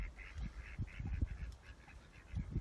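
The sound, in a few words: ducks quacking on a farm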